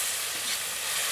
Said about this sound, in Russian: Вот так хорошо деглазируется сковорода от прилипших частичек самой шкурки.